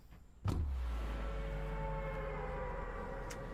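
A bus engine in a PlayStation 5 showcase game trailer starts with a sharp onset and settles into a steady low mechanical hum with faint tonal whine, loud and alone.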